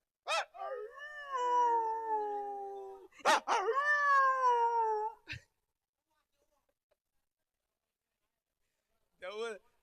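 A person imitates a dog howling: two long, drawn-out wavering howls close up, then a short sharp yelp, silence, and a brief final yip.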